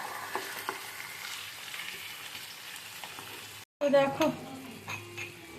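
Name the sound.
marinated chicken being sautéed and stirred in a pan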